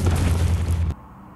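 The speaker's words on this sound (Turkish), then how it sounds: "Hayatımda gördüğüm en kötü araba patlama animasyonuydu." In the Baby in Yellow mobile horror game, a car explosion animation erupts as a loud, rumbling boom lasting under a second, then cuts off abruptly to a faint background.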